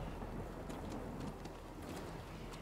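Steady heavy rain in the video game Death Stranding hisses throughout, a dense, even wash of noise with faint low rumbling beneath.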